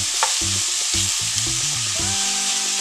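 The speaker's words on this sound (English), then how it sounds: "I want that oil from the pork to come out, so I just put it in a hot" Pork cooks in its own fat in a hot saucepan with no added oil, giving a continuous loud sizzle with steady tonal, music-like notes underneath.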